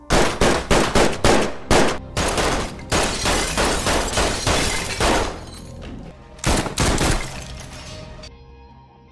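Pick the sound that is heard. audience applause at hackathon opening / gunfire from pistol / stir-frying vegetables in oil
gunfire from pistol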